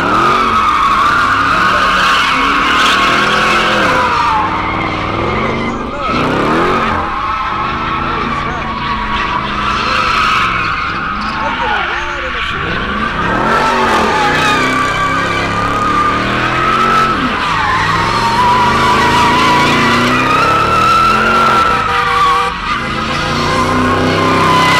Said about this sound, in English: Looks like we got the 392 about to do some donuts, man.